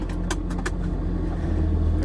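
A car engine starts and runs steadily at close range, with a low continuous rumble and a few brief clicks near the start.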